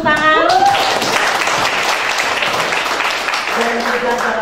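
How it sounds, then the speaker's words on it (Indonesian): Audience applause at a graduation ceremony in Jakarta, a dense wash of clapping following a brief tonal sound at the start, steady and moderately loud, fading slightly toward the end as a voice returns. "Tolong tepuk tangan."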